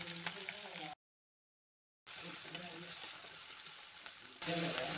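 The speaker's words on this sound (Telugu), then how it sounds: "ఇప్పుడు ఉల్లిపాయ ముక్కలు బాగా వేపుకోవాలి." Chopped onions and green chillies frying in a pan with whole spices for tomato kurma, a soft steady sizzle close by that cuts out briefly, then resumes and swells near the end.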